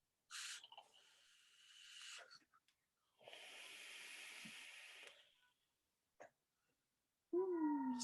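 A house cat vocalizing nearby in a quiet room, several drawn-out breathy yowls and hisses separated by silences, ending with a rising tonal meow.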